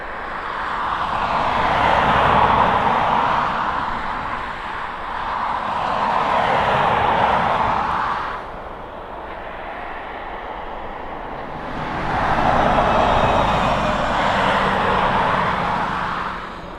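A cargo airliner bound for Cincinnati takes off down the full length of the East Midlands Airport runway, its engines a loud, broad roar that swells, eases briefly, and surges again, with no talking.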